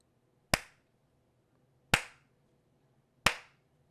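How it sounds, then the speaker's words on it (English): Three loud, sharp claps spaced well apart, about one and a half seconds between each, sounding as a deliberate slow clap with nothing else around them. "No one asked you for a slow clap, Rudy baddies."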